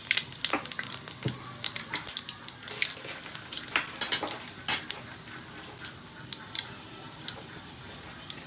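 Whole chili, bay leaf, radhuni and cumin crackling in hot oil, with rapid sharp pops and sizzles and a few stirring scrapes and clinks against the pan.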